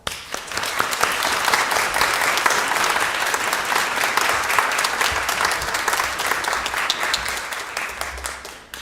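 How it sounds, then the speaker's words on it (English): A large crowd applauds steadily, dense clapping filling the whole stretch at an even, sustained level without letting up. "Okay, so thank you, and a hearty round of applause for Paul."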